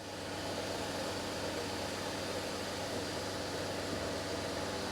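A 2005 Skoda Fabia 1.2 petrol engine runs steadily after a fuel filter change, a constant broadband hum with a low idle drone throughout, fairly faint and without talk.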